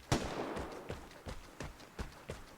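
Distant gunfire from other teams in the video game Vigor, a series of muffled, spaced-out booming shots of uneven loudness roughly every few tenths of a second.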